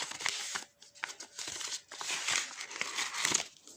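Crinkling and crumpling of paper or plastic wrapping as a handmade Disney surprise box is opened, a dense rustling that comes in several bursts with short pauses, close and fairly loud.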